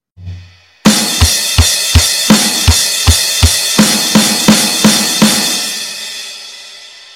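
An acoustic drum kit plays a song's beat at standard tempo. A steady kick and snare pattern sits under a washing crash cymbal, after a short soft lead-in, then rings out to a fade.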